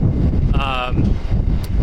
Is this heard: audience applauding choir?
no